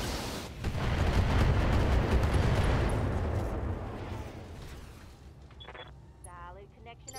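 Mech weapons fire and strike a target in Battletech, a heavy roaring boom that swells after a brief pause and slowly decays into quieter game sounds.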